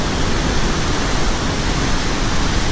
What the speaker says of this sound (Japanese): 滝の向こうまで行けますね。